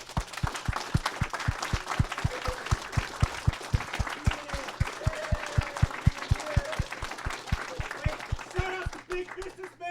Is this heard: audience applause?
yes